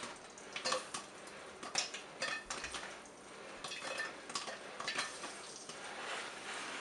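A covered pot of popping popcorn is shaken on the stove, producing rhythmic rattling and scraping with a soft sizzle underneath, fairly quiet and close.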